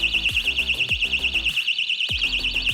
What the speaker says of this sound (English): and here comes the siren